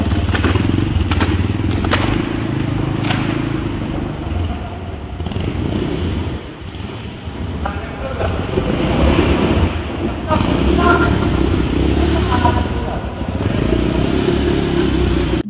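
A motorcycle engine idles steadily and fairly evenly, with occasional thumps and clatter around it and voices speaking over the running motor.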